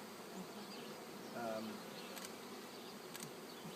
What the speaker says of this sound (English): some bees hum more than others